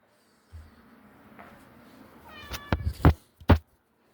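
A house cat meows several times in short, loud, close calls clustered near the end, after a stretch of quiet room noise.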